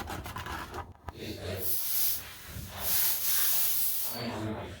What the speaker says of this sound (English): I'm going to spray some brake cleaner on this thing